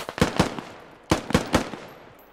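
Gunfire in the video game SquadOps: two quick pairs of sharp, punchy shots separated by a short pause, each crack trailing into a fading echo, fairly close and loud with no speech.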